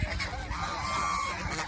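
Domestic geese kept on a small farm honk nearby, a steady raucous stretch of nasal calls overlapping one another with no pauses, moderately loud.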